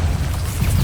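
A Confringo fire spell explodes in Hogwarts Legacy, heard as a dense, continuous low boom and rumble filling the short moment, loud and close with no speech over it.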